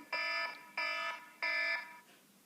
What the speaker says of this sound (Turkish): Şu lanet olası alarm.